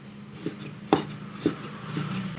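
A knife chops pork belly on a cutting board, each stroke a sharp knock, about five steady chops at close range over faint kitchen background noise.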